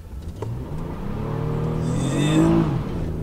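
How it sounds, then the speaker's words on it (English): A Chevrolet Camaro pulls away at full throttle on a drag run, its engine note rising steadily in a loud, close run-up that peaks near the end before easing off. "We're going to do a little full throttle drag run."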